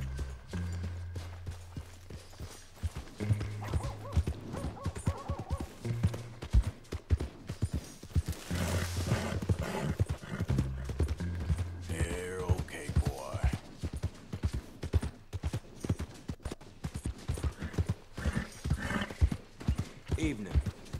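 Horses in Red Dead Redemption 2 clop along with steady hoofbeats and an occasional whinny, while a voice talks over the game sound.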